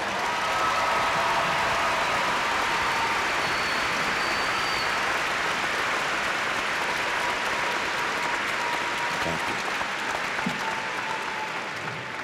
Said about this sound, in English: I invite you all to recognize them with your applause.